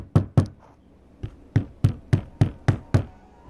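A rolled ball of kinetic sand is dropped repeatedly onto a hard surface, producing about nine dull, close knocks in a loose, uneven rhythm with quiet gaps between them.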